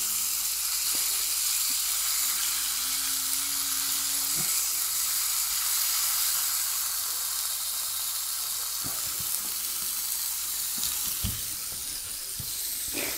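Char-grilled chicken sizzles steadily on a hot griddle pan, a constant broadband hiss at close range, with a few knocks and scrapes as the pieces are lifted and turned near the end; no one speaks.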